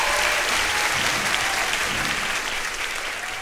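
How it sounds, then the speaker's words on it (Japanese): A concert audience at a live show applauds a dancer, dense continuous clapping and crowd noise filling the whole stretch, loud and steady, tapering only slightly toward the end. "大きな拍手を。"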